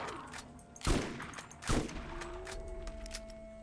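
Two loud, sharp shotgun blasts about a second apart in the video game Borderlands, each with a booming tail, over steady game background hum and a faint tone.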